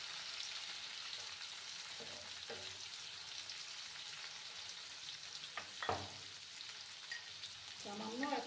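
Chopped tomatoes and onion fry in a pan with a soft, steady sizzle that runs the whole time, broken by a few stirring scrapes and clinks, fairly quiet.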